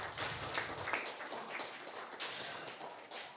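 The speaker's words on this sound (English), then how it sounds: "please give a big applause for our three wonderful speakers in this session" Applause for three seminar speakers at an international maritime security and shipping seminar, a steady crowd clapping with dense, irregular claps throughout, moderately distant.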